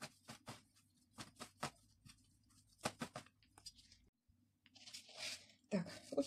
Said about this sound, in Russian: Мелко нарезаю крапиву.